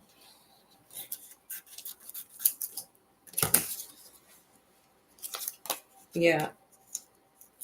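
Crisp snipping of scissors in short bursts, with rustling and handling noises between cuts and a brief spoken word.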